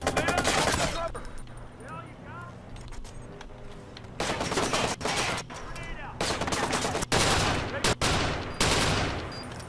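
Burst rifle fire in the video game Watch Dogs comes in loud, dense repeated volleys with brief gaps, close and dominant throughout the scene.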